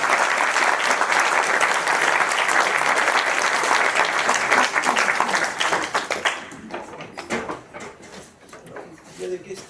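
Audience applause after a university lecture on the brain and mathematics, full clapping that thins into scattered individual claps in the last few seconds, with a few voices near the end.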